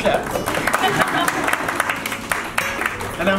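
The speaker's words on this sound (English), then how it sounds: "Please clap." An audience at the World Indigenous Fashion Week event in Nepal breaks into applause. The claps are lively and dense, with scattered sharp hits, and voices are mixed in.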